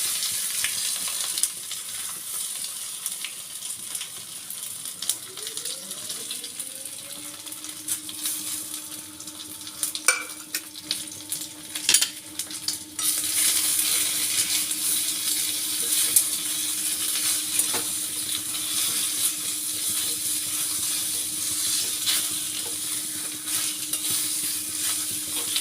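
Continuous sizzling and crackling of vegetables frying in tempered oil, with a rising tonal whine partway through and occasional clatters of stirring; no speech.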